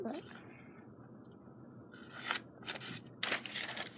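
Scissors snip through material to cut out a nail shape, giving a few short, close, crisp cuts in the second half after a quiet start.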